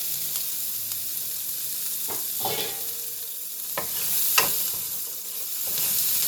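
Onions sizzle in a used frying pan at medium-high heat, a continuous bright hiss with a few sharper crackles and stirring scrapes, with no voices.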